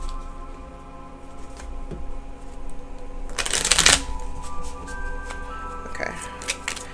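A deck of playing cards is reshuffled in one quick, crisp riffle burst that lasts about a second, close to the microphone, with a quiet room around it.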